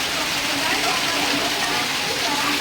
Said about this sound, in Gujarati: એકદમ જોરદાર વરસાદ આવી રહ્યો છે